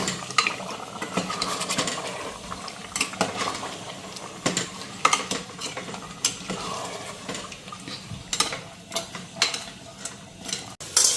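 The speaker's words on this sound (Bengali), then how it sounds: "একটু নাড়া দিই" A spoon scrapes and clinks against a pan in repeated strokes, close up, with a faint sizzle underneath and no talking.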